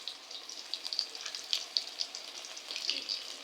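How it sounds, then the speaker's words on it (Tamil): Brinjal pieces frying in hot oil, a steady close crackling sizzle with small popping bursts, no one talking. "இப்போ நம்ம கத்திரிக்காய் வந்து பிரமாதமாக பொரிஞ்சு வந்துருச்சுங்க"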